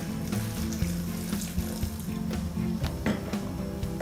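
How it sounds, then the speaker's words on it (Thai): Water running steadily into a blender jar of Thai curry paste ingredients for sour curry, a continuous close splashing pour with a low hum underneath and no talking. "ก็ช่วงนี้เราก็ใส่น้ำลงไปด้วย เพราะเราจะได้ปั่นง่ายๆ"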